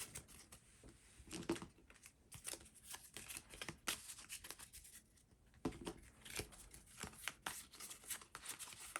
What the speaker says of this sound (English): shuffle each pack again.